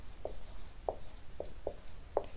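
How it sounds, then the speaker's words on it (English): Five short, distinct taps of chalk or a marker writing on a board during a lecture on catalytic reactions, sounding close and faint and spaced irregularly over a quiet room. "So I'll just write this down."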